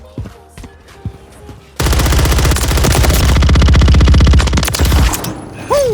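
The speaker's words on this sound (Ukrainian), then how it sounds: "можна вже виробляти навіть отакі постріли" A rapid, loud burst of automatic gunfire from Call of Duty: Modern Warfare III rattles on for about three seconds after a few sparse clicks and faint shots. A short ringing tail follows.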